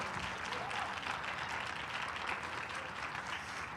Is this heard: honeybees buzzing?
no